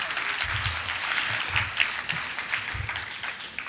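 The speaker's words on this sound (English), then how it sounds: "Give them all a nice round of applause." An audience claps steadily for five finalist teams at an awards announcement, a dense, even round of applause that fills the whole stretch at moderate loudness.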